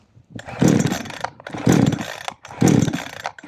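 A petrol chainsaw that has sat unused for a long time is pulled three times in a row, each a loud, close, rasping burst that surges and then fades.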